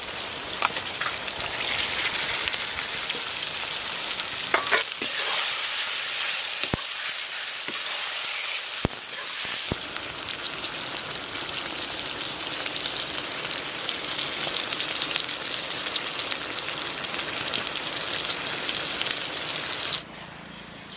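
Pork curry sizzles and bubbles in a pan on the stove, a dense, steady frying hiss with a few sharp clinks of stirring, heard up close with no talking.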